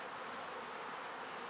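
Bees buzz at a hive in a dense, steady drone, moderately close and continuous with no talk.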